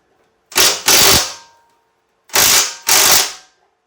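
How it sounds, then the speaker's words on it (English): Four loud metallic bangs in two pairs as a wrench is struck to tighten a bolt on a snow plow, with short silences between the pairs. "Tighten a little bit, do a couple whacks, readjust the wrench."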